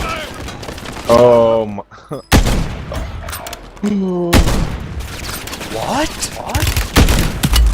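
Bursts of gunfire in a ranked online shooter game, loud cracks and rapid volleys punctuated by a few booming hits, with players reacting in speech between the shots.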